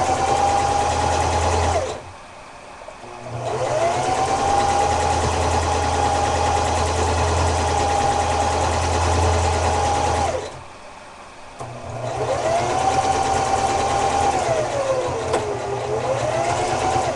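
A sewing machine stitches fabric for realistic K9 ears in steady, close whirring runs, each lasting several seconds, broken by two short pauses while the fabric is shifted.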